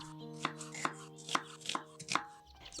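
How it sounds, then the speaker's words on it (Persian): A knife chopping an onion into thin strips for pumpkin soup, several crisp, evenly paced cuts on a board, close and clear over a faint steady hum. "یه پیاز هم میخوایم که باید خلالی خوردش کنیم."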